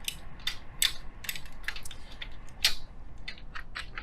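An Allen key loosens the all-thread bolt on the belly band of an SL pump, giving a series of sharp metallic ratcheting clicks and ticks spaced irregularly over a quiet background, close and clear.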